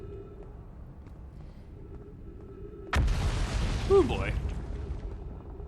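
Planet crumbling apart in the Outer Wilds video game, a sudden loud rumbling burst that starts midway and keeps roaring with crackling debris, while a man reacts briefly over it.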